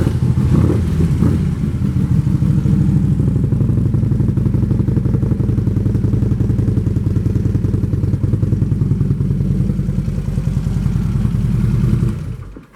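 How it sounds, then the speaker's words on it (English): A 2013 Harley-Davidson Electra Glide Ultra Classic with big Vance & Hines exhaust pipes idles loudly and steadily up close, a deep lumpy rumble with a brief throttle blip at the start, then cutting off at the end. "Big old Vance & Hines pipes that make the bike sound as good as it looks"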